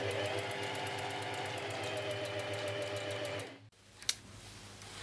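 Sewing machine runs at steady speed stitching fabric for a shirred skirt ruffle, a rapid even mechanical chatter with a humming motor, then stops abruptly followed by a brief click and quiet handling.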